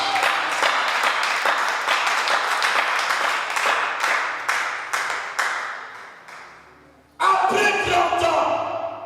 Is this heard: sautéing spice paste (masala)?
no